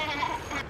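Children at a family mountain campsite imitate the bleating of mountain goats, a short wavering vocal bleat sustained close by.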